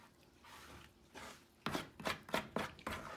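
A spoon or spatula scrapes wet no-knead bread dough around a large plastic Tupperware bowl in a quick series of rough, rhythmic strokes, close and moderately loud.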